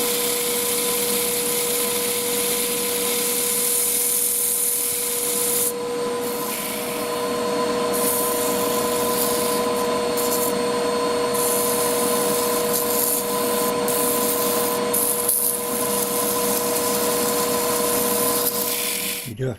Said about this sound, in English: Using my homemade inertia sander with a bit of 600 grit on there.